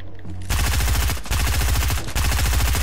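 Rapid SMG fire in Fortnite, loud and close, in three sustained bursts separated by brief pauses, each a fast rattling stream of shots.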